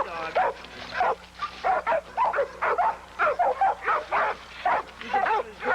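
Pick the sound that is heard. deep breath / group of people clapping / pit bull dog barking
pit bull dog barking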